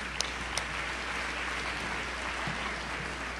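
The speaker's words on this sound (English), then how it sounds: "So give the Board of Trustees a round of applause." Faint, distant applause from an audience at a community celebration, a soft steady wash of clapping with a couple of sharper claps near the start over a low hum.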